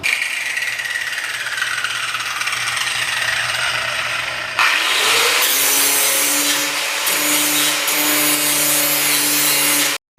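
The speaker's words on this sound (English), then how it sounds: "So I'm trying to grind it down to save what I can, and yeah, just get all the rust off of it." A grinder wears rust off a badly rusted metal part from a 1966 Mustang, a loud and steady abrasive rasp that sharpens partway through into a harsher whine with shifting pitch, then cuts off abruptly.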